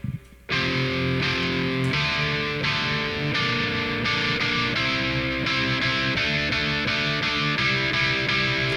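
Distorted rhythm guitar from a VST plugin plays sweep strums with sustain, chords changing roughly every second in a steady backing pattern, loud and up front after a brief quieter opening.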